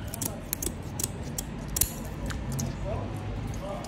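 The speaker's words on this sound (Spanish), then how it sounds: "Y esto de aquí lo cortaremos con las tijeras." Kitchen scissors snipping the fins off a sea bream, with a quick series of sharp crisp clicks and snips close by, plus some soft handling noise.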